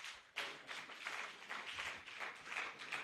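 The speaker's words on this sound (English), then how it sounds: "Let's give him a rounding applause." Audience applause at a healthcare professionals' conference and annual general meeting in Lagos, a steady wash of many hands clapping that swells suddenly and holds for about three seconds.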